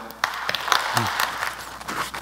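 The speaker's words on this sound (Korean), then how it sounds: "박수로 맞아주세요." Scattered audience clapping welcoming a speaker at a conference talk, brief and moderately loud, with sharp individual claps and some voices mixed in.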